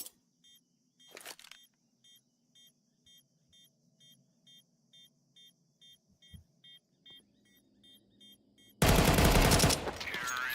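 Gunfire in a Counter-Strike match: a long run of steady, evenly spaced electronic beeps, then a sudden loud, dense burst of shooting close up near the end.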